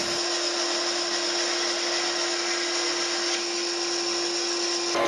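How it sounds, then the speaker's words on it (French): A band saw ripping thin wooden boards lengthwise along guide grooves, a continuous close, loud steady whine and hiss that holds almost unchanged for about five seconds. "afin de me faciliter le travail à la scie à ruban pour refendre ces planchettes"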